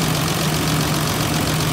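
A Toyota Land Cruiser FJ80 with the 3FE 4.0-litre engine idles close by, a steady loud droning hum with a constant low tone and no variation.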